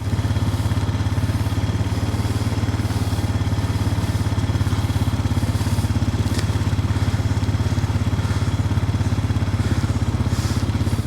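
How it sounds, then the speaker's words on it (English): An ATV four-wheeler fitted with a salt spreader runs steadily on a snowy gravel driveway, its engine idling with an even, close-up chugging drone and no voices. "Here's the four-wheeler and the spreader."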